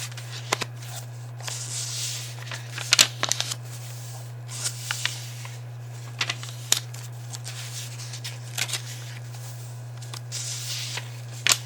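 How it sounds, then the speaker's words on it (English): Paper pages of a notebook flipped open to a clean sheet in a quiet room, soft rustles and a few crisp, close page snaps over a steady low hum. "open up to a clean sheet of paper"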